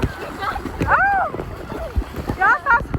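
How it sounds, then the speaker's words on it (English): Water splashing close by at a cold beach, with broken splatters under excited voices and shouts of people in the water. "Y'all stop splashing around me."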